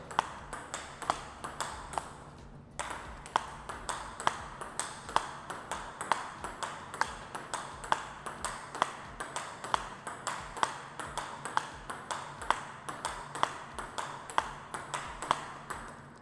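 Rapid ping pong ball strikes on paddle rubber, Butterfly Fastarc G-1 and Rakza 7, a steady run of sharp pings repeating about twice a second, close and fairly loud with no talking.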